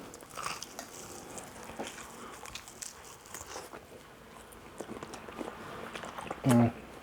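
Close, crisp crunching bites and chewing on crunchy fried boneless pork spare ribs, with a few soft clicks and rustles and a louder thump near the end.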